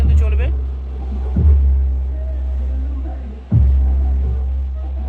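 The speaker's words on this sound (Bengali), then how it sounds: "হালকা করে বাজাও, দেখুন বাজছে কীরকম মারাত্মক লেভেলের প্রেসারটা দেখুন" Loud bass pumped through a speaker box driven by a large pressure board, a steady heavy low-end throb with two sharp thumps standing out over continuous rumble.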